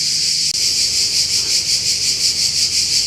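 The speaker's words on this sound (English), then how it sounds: "That's how loud these crickets are." A loud, dense chorus of crickets chirps outdoors by an abandoned prison, a constant high pulsing trill that fills the whole clip with no talking.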